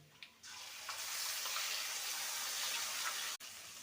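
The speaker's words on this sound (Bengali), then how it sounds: "একটু মিক্সির জার ধুয়ে জলটা দিয়েছি" Rinse water from a mixer jar poured into a cooking pan for a potato dish, a steady soft splashing gush lasting a few seconds and ending abruptly.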